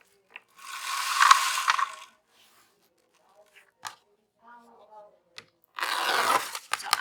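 A cutter snips through deco mesh for a wreath in a few short bursts of crisp rustling and clicking, separated by quiet gaps, with faint small mechanical clicks and a voice briefly heard between cuts.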